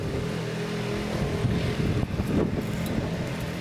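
Steady roar of strong wind buffeting the microphone in a vineyard, with a low rumbling drone underneath and gusts swelling near the middle; no voices.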